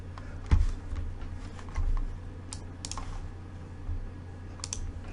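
Keystrokes on a computer keyboard entering a docker build command, a quick irregular run of clicks with a few heavier thumps, close and fairly quiet with no voices.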